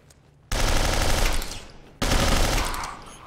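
Two long, loud bursts of automatic gunfire in the Interstellar Marines video game, each a rapid stream of close, sharp shots that fades into a decaying echo.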